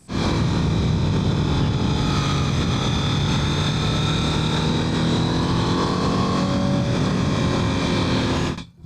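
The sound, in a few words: Honda Fireblade motorcycle engine running in mode 1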